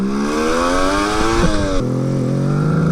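A Suzuki GT550 two-stroke triple motorcycle engine revs loud and close, its buzzing note climbing in pitch, then dropping sharply as the throttle closes and settling into a lower steady drone.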